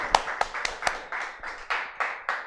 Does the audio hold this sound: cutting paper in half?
no